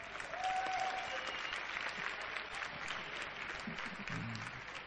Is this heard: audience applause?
yes